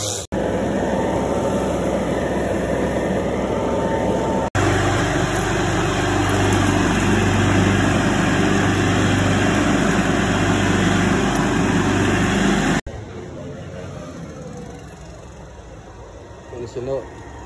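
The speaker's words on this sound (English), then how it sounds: "So now I'm about to hop on the blower" A leaf blower runs at a lawn care job, a loud, steady motor roar with a droning whine that holds for about thirteen seconds, then drops to a quieter, rougher engine sound near the end.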